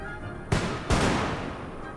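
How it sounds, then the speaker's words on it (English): Two booming cannon blasts from artillery in the strategy game Europa Universalis IV, the first at about half a second and a heavier one just under a second, each with a long rumbling tail over a steady game background. "If we can get those cannons up on top of the hill in time, we can hit them."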